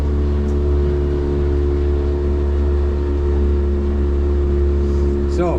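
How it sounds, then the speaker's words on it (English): Small kicker outboard motor pushing a 22-foot Stabi boat, a loud, constant, steady drone that holds unchanged throughout. "We are on the kicker motor."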